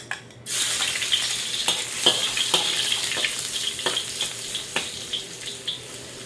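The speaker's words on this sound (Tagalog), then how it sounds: "Maglalagay tayo ng konting cooking oil. Garlic." Garlic drops into hot cooking oil in a pan and sizzles loudly and steadily, with crackling pops and the scrape of stirring, close and alone with no talk.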